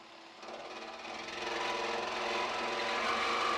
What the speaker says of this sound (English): I'm going to use my jigsaw with a metal cutting blade that has a medium tooth